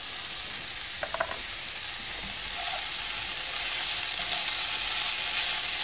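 Green tomato thoran stir-frying in a pan, a steady broadband sizzle that swells louder in the second half, with a few brief spatula clinks near the start and no talking.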